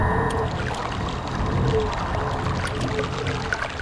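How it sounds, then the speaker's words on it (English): Water droplet sound near a volcano fissure in the Myst video game, soft dripping and trickling over a low watery ambient background, moderately loud, with no voices. "That sure sounds like a water droplet if I've ever heard one."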